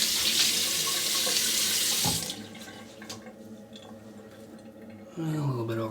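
A bathroom tap runs loudly for a rinse during a wet shave, a steady close rush of water that cuts off after about two seconds, leaving faint drips and handling before the flow briefly resumes.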